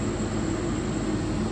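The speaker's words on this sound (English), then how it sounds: "it's a direct drive air compressor" Grassair RollAir 30 V direct-drive screw air compressor runs continuously, a steady loud broadband roar with a low hum and a thin high whine, heard close up without pauses.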